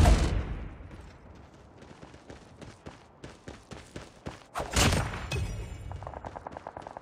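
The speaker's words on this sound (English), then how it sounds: "Friendly sentry gun deployed." A sentry gun fires in the Call of Duty Mobile zombie mode Attack of the Undead, sending out rapid bursts of repeated gunshots that swell louder midway and keep cracking to the end.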